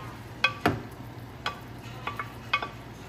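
Chicken added to a pan while cooking Filipino pancit brings a few sharp utensil clanks and stirring scrapes over a faint, steady sizzle.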